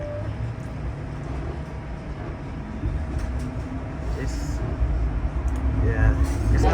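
TTC streetcar rolling along the Bathurst 511 route toward Bathurst Station, a steady low rumble of wheels and motor that swells toward the end, with voices talking over it.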